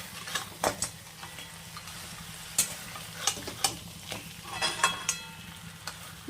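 Fish heads in masala frying in a pan, stirred with irregular scrapes and clinks of the utensil over a soft steady sizzle, close but quiet, without speech.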